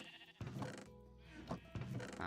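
Sheep bleat repeatedly in a farming video game, a few short wavering calls standing out clearly at moderate volume, while a player talks quietly beneath them.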